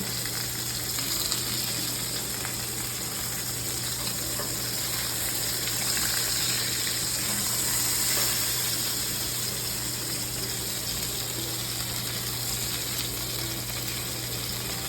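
Steady, loud sizzling and frying hiss of chicken in a hot frying pan, continuous throughout with no talking.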